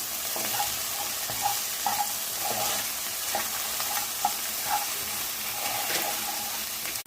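Okra fry sizzling in a pan with chili powder, turmeric and salt, stirred with repeated scraping strokes over a steady frying hiss at moderate volume, with no voices.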